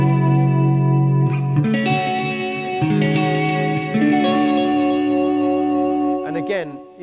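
Clean electric guitar played through a TC Electronic G-System effects preset, sustained chords ringing with vibrato, chorus and reverb, changing every second or two, loud and close with no talking.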